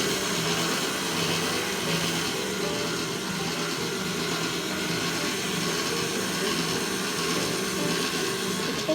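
An electric mixer runs steadily while sugar is mixed into a recipe batter, a continuous whirring drone that stays even and moderately quiet throughout with no talk.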